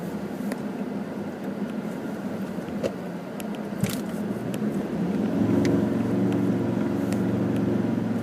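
A vehicle engine grinds steadily up a dry dirt climb on the Creb Track in Far North Queensland, rising into a louder sustained drone after a few seconds, with occasional knocks and rattles from the cabin.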